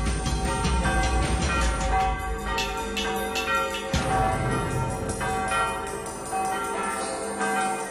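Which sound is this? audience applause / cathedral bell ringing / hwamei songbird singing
cathedral bell ringing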